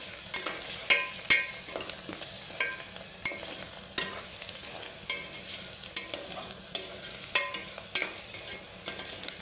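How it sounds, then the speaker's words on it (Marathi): A spoon stirs turmeric and spices into a sizzling cowpea curry, scraping and clinking against the pan in quick, irregular strokes over a steady frying hiss, up close with no talking. "थोडीशी हळद परत मिक्स करणार आहे"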